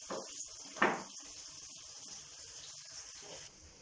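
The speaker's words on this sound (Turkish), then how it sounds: "Şöyle sıkarak da suyunu çıkarabiliriz." Water squeezed by hand out of curd cheese made from milk, faint trickling and dripping with a couple of brief splashy gushes near the start, then a quiet steady trickle.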